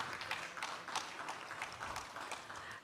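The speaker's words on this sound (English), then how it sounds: "we must applaud her for that" An audience at a 2022 e-commerce summit claps in a soft, continuous patter of many hands, sounding somewhat distant and low in level, with no voices over it.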